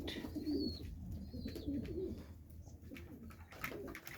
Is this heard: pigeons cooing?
yes